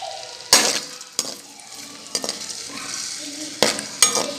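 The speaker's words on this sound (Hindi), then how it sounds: "ऑयल, प्याज डालूंगी इसमें। बिस्मिल्लाहिर्रहमानिर्रहीम। और प्याज को कर लेंगे ब्राउन।" Onions dropped into hot oil in a pan, with bursts of sizzle and a few sharp stirring clanks against the pan over a steady low frying hiss, fairly close and without talk.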